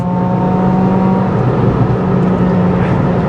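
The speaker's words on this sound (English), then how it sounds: "A little bit of popping and banging when you lift off." A loud hot hatch engine, a Ford Fiesta ST150, Renault Clio 182 or Skoda Fabia vRS, drones steadily at high revs, a continuous near roar with a slight shift in pitch midway.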